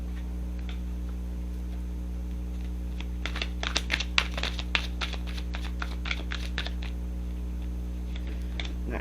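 A tarot card deck being shuffled by hand, a stiff deck, giving a run of quick papery flicks and riffles in the middle of the stretch over a steady low hum, close and fairly soft.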